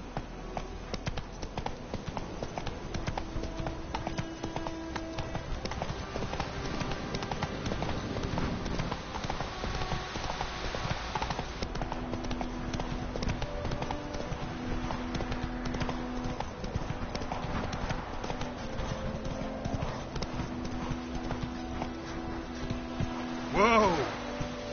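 Hooves of the horse Roach in the Witcher video game clatter in a steady galloping clip-clop rhythm, carried under game music and ambient sound, with a brief louder burst near the end.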